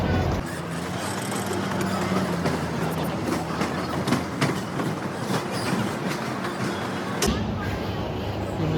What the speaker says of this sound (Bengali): সেই ট্রেনটা এখন আবার রওনা দিয়ে কালকা রিটার্ন যাচ্ছে